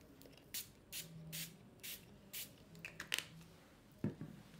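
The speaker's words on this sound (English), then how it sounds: "So now I'm going to spray on this with little bit of yellow." Yellow ink spray misted onto a canvas, with about half a dozen short, quiet pump-spray hisses in an uneven rhythm, close by, plus faint handling noises.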